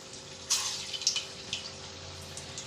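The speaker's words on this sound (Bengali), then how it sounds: "বলগুলো রেডি করে নিয়েছি এবার দিয়ে দেবো ভাজতে হালকা আঁচে ভেজে নেব" Chicken malai kofta balls sizzling as they fry over low heat in oil, with a soft steady bubbling bed and a few brief louder crackling bursts near the pan.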